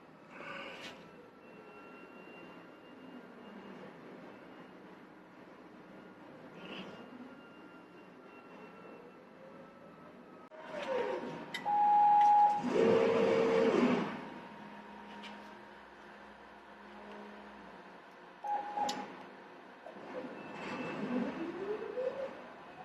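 A CNC plasma table runs its motion dry with the cutter switched off: faint whirring drive motors with rising and falling whines, a louder burst of motor noise midway, then more short moves.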